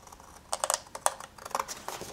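Scissors cut paper along a 1 cm fold line for a DIY mini album, making a quick series of close, crisp snips and rustles with no talking.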